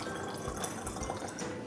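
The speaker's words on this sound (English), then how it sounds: "now I'm going to fill the remainder of the bottle with water" Water filling a plastic bottle for a homemade lava lamp, a faint steady trickling and gurgling stream heard up close without any voices.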